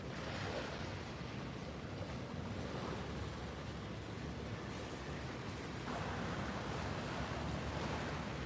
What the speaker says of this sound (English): Can you guys hear the waves?